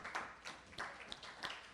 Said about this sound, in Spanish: Eso merece un aplauso, ¿verdad?